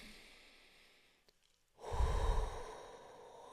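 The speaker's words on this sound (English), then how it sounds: "I'm taking a deep breath." A single deep inhalation through the nose, close and moderately loud after a short pause, swelling over about a second with no talk.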